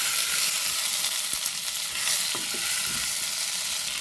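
Tomato and other ingredients sauté in a pan over lowered heat for a curry with dried fish, giving a steady close sizzle with a few scraping stirs from a spoon.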